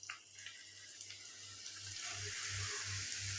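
Grated carrots dropped into hot ghee in a pan for carrot halwa, a steady broadband sizzle and hiss that swells louder after the first couple of seconds under a low rhythmic hum.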